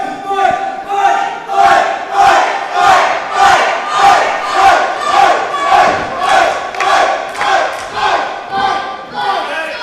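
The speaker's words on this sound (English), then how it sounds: "The crowd's solidly behind the Banger" A big arena crowd at a KSW heavyweight wrestling event chants in loud, rhythmic waves, rising and falling roughly every half second throughout.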